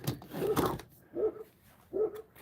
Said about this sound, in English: What are the doggies barking at?